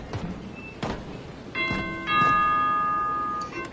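A doorbell in the Fortnite video game rings with bright, sustained bell-like chimes that overlap and fade, after a few sharp knocks or hits.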